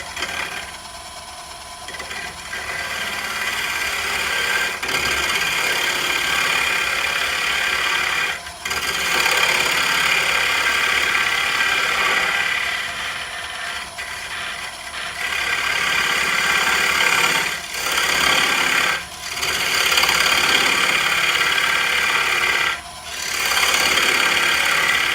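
A round carbide carving tool rasps continuously across a camphor wood bowl, a loud gritty scraping broken by brief pauses every few seconds.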